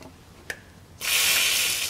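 Aerosol can of WD-40 penetrating oil sprayed onto bolts of an abandoned 1956 Chevy: a sharp click, then one steady, loud close hiss lasting about a second, with no talking.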